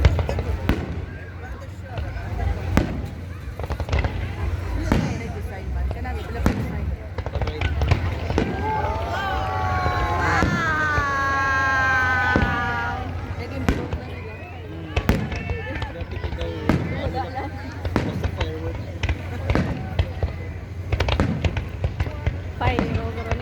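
A fireworks display over the Doha Corniche in Qatar for Eid 2023 sends out repeated booms and crackling bursts for about twenty seconds. People talk nearby throughout, and a whistling rise comes through the middle.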